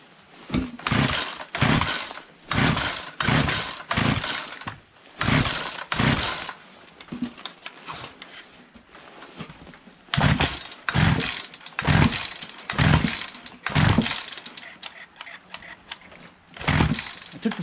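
Repeated pull-starting of a Poulan 2250 Woodman 18-inch 36cc gas chainsaw that won't start: a dozen or so sharp ratcheting pulls in quick bursts, close and loud, with no engine catching.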